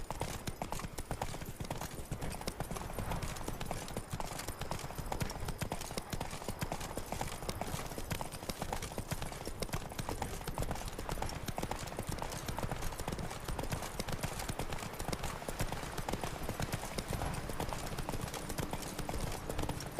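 Horse hooves clip-clopping steadily in the Witcher 3 Blood and Wine game, a continuous dense rhythmic trotting that stays loud and even for the whole stretch, with faint speech in the background.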